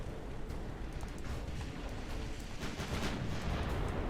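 Naval gunfire in the warship game Ultimate Admirals: Dreadnoughts, a dense continuous low rumble of distant cannon booms layered over one another, steady and moderately loud throughout.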